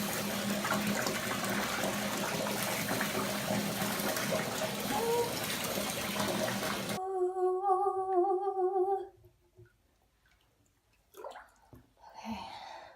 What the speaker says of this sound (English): Let me add more cold water.